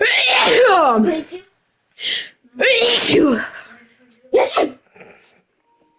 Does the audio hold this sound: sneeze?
yes